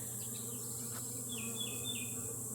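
Honey bees drone steadily in an opened hive during an inspection, a continuous close buzz with a few rising whines from individual bees passing near.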